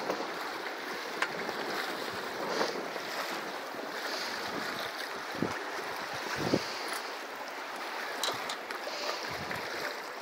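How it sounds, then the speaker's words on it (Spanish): Gusty sea wind buffets a boat near Ilha de Macuco, with a constant rushing roar of wind and waves, occasional knocks and splashes, and no voices. "Acá viene viento sucio, pero no pasa nada"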